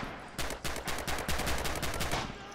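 MP40 submachine gun fire in Red Orchestra 2: a loud, close, rapid stream of shots after a brief pause, with steady rhythmic rounds running for about two seconds and no talk over it.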